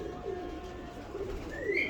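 A teddy breed pigeon coos softly in short, low murmuring notes, close by, over a steady background hum with no talking.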